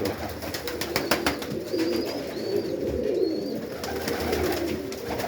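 Pigeons coo repeatedly inside a dovecote, soft low calls overlapping one another, with faint higher chirps and shuffling in the background; no voices.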